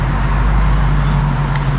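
A car fitted with a cold air intake drives along, its engine a steady, close, low droning hum with no distinct revs or other events.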